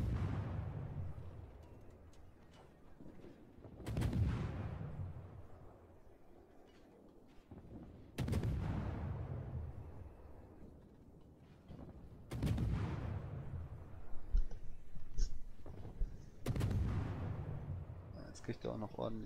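Naval battle gunfire from the ranked video game World of Warships. Four heavy booming salvos roll out at intervals of about four seconds, each trailing a rumbling decay, under a player's talking.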